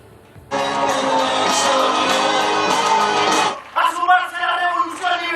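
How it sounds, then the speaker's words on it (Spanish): A large crowd at a Javier Milei presidential campaign rally roars, shouts and chants loudly and continuously for a few seconds, then individual yells and voices follow as the roar drops. "Entre gritos, al coro de Milei presidente, recibían a uno de los candidatos a la presidencia"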